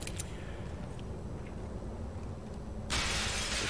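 Glass shattering in the video game Spec Ops The Line: a sudden loud bright burst of breaking glass near the end, after steady game ambience and rumble.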